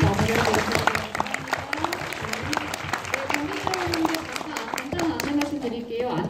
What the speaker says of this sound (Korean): 마지막 큰 박수 서로 건네주며 마무리하겠습니다